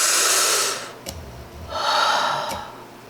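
Two slow, deep breaths, each a long audible inhale followed by an exhale, close and fairly loud, with a brief quiet pause between them and no talking.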